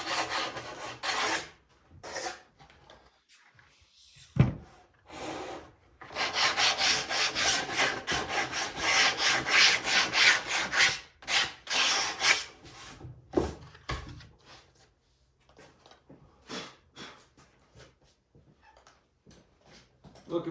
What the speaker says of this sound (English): I'm going to sand this edge of the blue now that it's done